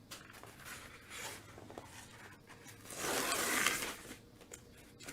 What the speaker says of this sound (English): right now it's still wet in some areas, and so I'm taking off the tape first